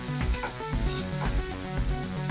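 About one and a half teaspoons of garlic sauté in a pan while cooking beef and potato cutlets, a continuous close sizzle with stirring scrapes, layered under steady background music.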